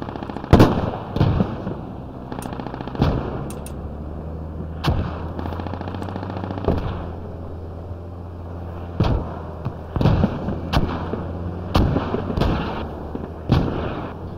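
Gunfire in the video game Squad during a 100-player Arctic battle: irregular sharp shots and bursts, some near and some distant, crack out over a steady low vehicle engine drone.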